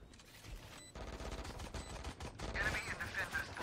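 Gunfire from a gun in the game Valorant, a dense stream of rapid shots running throughout, loud and close, mixed with other game sounds and voice chatter.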